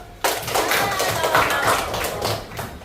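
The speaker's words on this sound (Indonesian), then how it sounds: "Yuk, tepuk tangan itu." A classroom of students claps their hands together in a brief, dense burst of many overlapping claps that starts abruptly and carries on steadily until the end.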